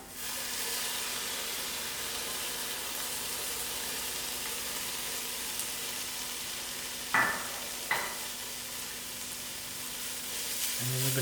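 Garlic and chilies fry in a pan with paprika, giving a steady, even sizzle throughout. Two sharp knocks or stirring scrapes cut through it partway along, and the sizzle swells slightly at the end.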